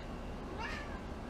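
Single short meow from a house cat, close and clear over a steady room background.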